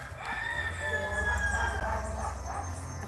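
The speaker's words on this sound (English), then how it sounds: "see the rooster there? He's the one that said it." Rooster crowing outdoors, a sustained, wavering call of moderate loudness over steady background hum, with faint voices nearby.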